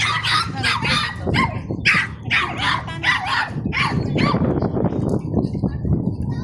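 A dog barks repeatedly at the seaside, loud, close yaps coming in a quick irregular series, with people talking faintly in the background.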